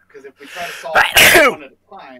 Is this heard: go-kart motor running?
no